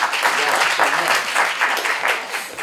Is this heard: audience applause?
yes